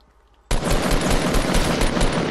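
Silence, then a sudden burst of rapid, sustained automatic gunfire in Fortnite, loud and continuous for about two seconds with dense overlapping shots.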